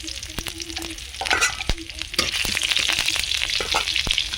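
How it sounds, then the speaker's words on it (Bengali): Sugar, bay leaf, cumin, green chilli and panch phoron fry in hot oil in a pan, giving a close, steady crackling sizzle with sharp spatter pops and stirring clatter that grow louder partway through. "তেল খুব ভালো গরম হয়ে গেছে ওর মধ্যে আমি চিনি দিয়ে দিচ্ছি অল্প করে তেজপাতা জিরা কাঁচা লঙ্কা পাঁচ ফোড়ন"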